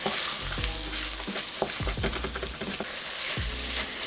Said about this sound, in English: We're just scrape all the fond off the bottom of the pan